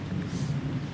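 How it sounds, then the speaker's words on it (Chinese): Low thunder rumble from the horror video game Corpse Party, a short, fairly loud roll heard on its own with no talk over it. "只是打雷哦"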